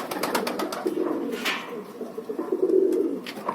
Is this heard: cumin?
no